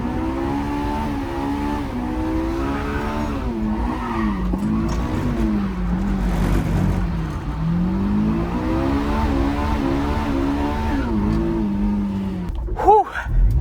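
A 1990s JDM car, old and rusty, drives hard on a test drive, its engine revving up and down through the gears with tyre squeal close by and loud throughout, ending in a sharp squeal.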